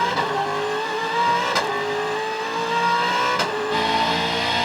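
V8 Supercars in the 2011 Gold Coast 600 street race roar past continuously, loud engines holding steady revving pitch with brief sharp transients as cars pass close, sustained throughout without talk.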